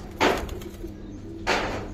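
Giribaz pigeons, a pair of big birds handled during a look at their feathers, give two soft cooing bursts, one near the start and one later, over low room noise.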